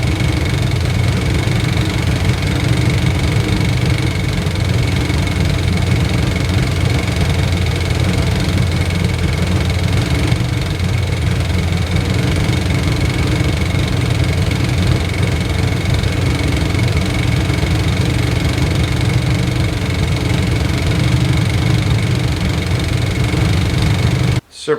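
Chevrolet C20 pickup truck engine idling steadily in a shop, a continuous loud rumble with mechanical clatter that holds unchanged for the whole stretch and cuts off abruptly at the very end.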